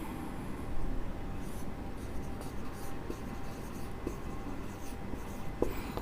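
Pen or chalk writing during a chemistry lecture on oxidation states, with scratchy intermittent strokes over a steady room background, no talking.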